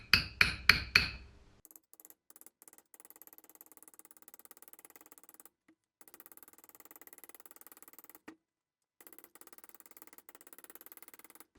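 Four quick metallic hammer taps ring out sharply while a seal is seated on a VW Vanagon transmission axle shaft, followed by faint scattered clicks and near silence.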